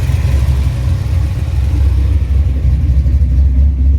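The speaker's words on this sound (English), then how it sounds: "She's idling good now." A rebuilt small-block Ford 302 V8 idles loud and low with a steady rumble and deep throb, with no voices over it.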